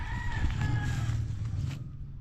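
A native chicken rooster crows near a walled subdivision, a harmonic call sweeping through about two seconds over steady low background rumble, with other fowl faintly around.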